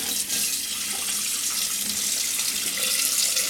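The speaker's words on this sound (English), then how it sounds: "put some water in that and get the Moroccan chickpea residue" A kitchen tap runs steadily into a sink while a saucepan holding Moroccan chickpea residue is washed up, giving a loud, continuous close rushing of water with no talking.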